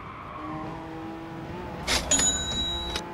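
A Gr.3 race car in GT Sport hums along with a steady engine tone, then a brief rasping burst of braking noise and tyre scrub as it slows into a corner.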